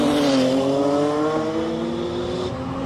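A Toyota Supra fitted with an HKS T51R turbo on stock engine internals runs at a street drag event, its engine droning loud and close with steady, slightly rising harmonic tones for about three seconds.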